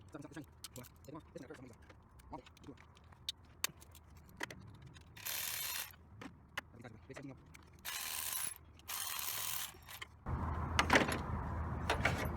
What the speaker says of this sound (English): now I'm going to take these 17 millimeters bolts on the top